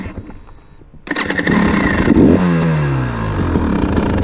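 A KTM XC-W 300 TPI two-stroke dirt bike engine starts up after a moment of quiet and settles into a loud, steady, buzzing low idle, heard up close.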